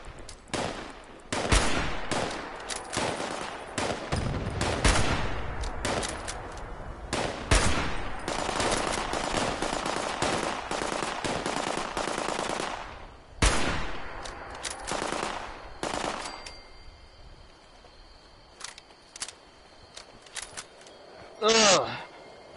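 Bursts of automatic and single gunfire in the video game Fallout 76, dense rattling volleys for several seconds then scattered shots, with a voice talking over part of it.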